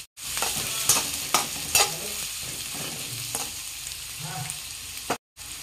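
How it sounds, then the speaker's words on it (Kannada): Onions frying in oil in a pan for a sprouted horse gram stir-fry, a soft sizzle with a few sharp spatula scrapes and taps, close up, no talking. "ಉಳ್ಳಾಗಡ್ಡಿ ನೋಡ್ರಿ, ಸ್ವಲ್ಪ ಕೆಂಪು ಕಲರ್ ಬರೋವರೆಗೂ ಎಣ್ಣೆ ಜೊತೆ ಸಲತ್ತಾಗಿ ಫ್ರೈ ಮಾಡ್ಕೊಳ್ಳೋಣ್ರಿ"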